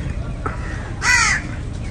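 Crows gather outdoors, and one loud, close caw rings out clearly, preceded by a fainter call, over a steady background murmur.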